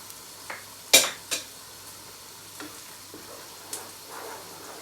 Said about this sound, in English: Now I'm going to mix together everything.